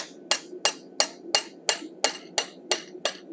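A hammer strikes a chisel cutting a mouth into a forged steel wolf head: ten evenly spaced, ringing metallic blows in a steady rhythm, close and clear with no talk.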